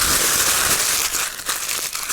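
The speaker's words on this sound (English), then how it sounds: "hand them a sheet of parchment paper and tell them to crumple it up." Hands crumple a sheet of parchment paper into a ball, giving loud, close, continuous crinkling with a few sharper crackles near the end.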